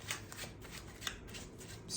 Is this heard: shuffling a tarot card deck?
yes